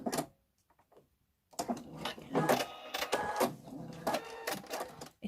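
A sewing machine lock stitching a zip into a cushion, starting after a near-silent pause with a busy, close whirring run of stitches and mechanical clatter, no talking.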